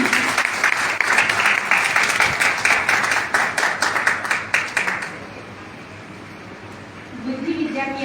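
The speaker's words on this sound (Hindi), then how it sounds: "एक बार ताली हो जाए" An audience at a Hindi literary book event bursts into dense, loud clapping for about five seconds. The applause then drops away and a voice starts speaking.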